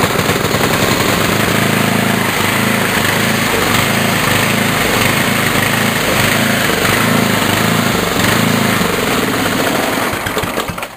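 A snowblower engine, cold-started, runs at a loud, steady, rattling roar from start to finish. It sounds close and continuous with no voices and no breaks.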